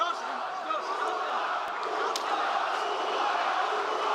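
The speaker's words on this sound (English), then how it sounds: "Pro-Nurmagomedov crowd here inside the Etihad Arena." A large arena crowd at a UFC mixed martial arts event keeps up a steady roar of cheering and chanting, dense and continuous with a few sharper shouts rising out of it.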